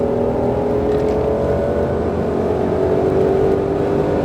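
A Mustang Shelby GT500 accelerates on a Las Vegas race track, its engine a loud steady droning roar heard from inside the car, rising gently without a break.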